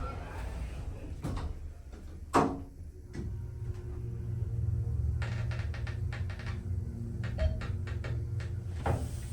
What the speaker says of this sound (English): Seriously need to grease that door.